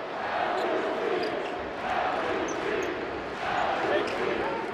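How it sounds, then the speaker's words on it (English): A big crowd roars through a 2021 NCAA tournament first-round basketball game, Loyola Chicago against Georgia Tech, with a dense arena din swelling in waves and ball bounces mixed in. "it sounds like a big crowd here"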